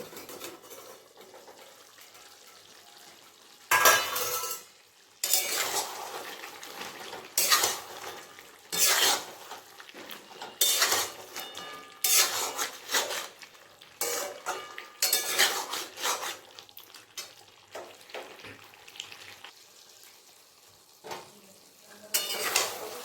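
A pot lid is lifted and homemade desi chicken curry is stirred in a pan, with repeated scraping and clattering of a utensil against metal over a low sizzle, in irregular close bursts.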